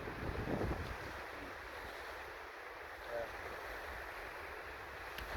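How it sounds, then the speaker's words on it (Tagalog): Strong wind roars across the microphone at the shore, with a broad rushing sound of surf underneath, steady throughout. "malakas yung hangin"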